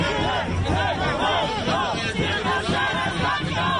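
A protest crowd chants in a rhythmic, rising-and-falling cadence, many voices blending into a loud, steady roar with shouting layered on top.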